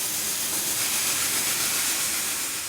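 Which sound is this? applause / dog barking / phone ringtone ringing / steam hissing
steam hissing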